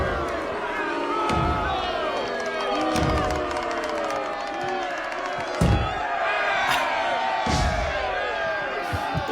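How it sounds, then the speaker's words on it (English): A large crowd in the TV series Rome cheers and roars continuously, with shouts, whoops and thuds rising through a dense wall of voices. "They're cheering for our boys!"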